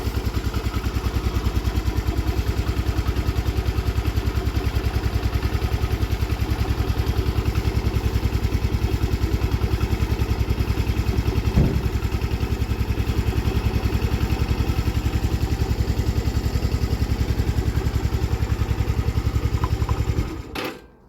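A Honda CD 175 motorcycle engine, a barn find under restoration, idles steadily and loudly up close with an even, rapid pulse, cut off abruptly near the end.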